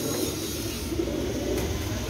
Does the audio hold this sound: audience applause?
no